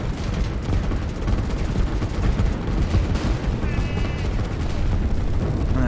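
SAM units fire missiles alongside artillery in the strategy game Line War, a loud and unbroken barrage of overlapping blasts and crackling gunfire that never lets up.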